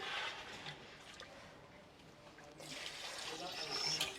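Water is poured into a pot of crab curry cooking in a village kitchen, a continuous splashing stream that swells again toward the end.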